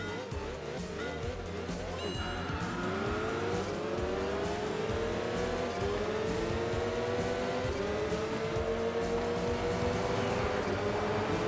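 An LMP race car laps Tsukuba in the racing video game Enthusia Professional Racing, its engine note sweeping up repeatedly through the gears in loud rising whines, with faint tire noise and other engine sounds beneath.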